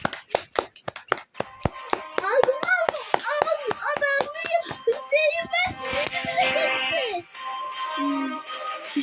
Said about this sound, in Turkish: Şöyle bir alkış yapalım.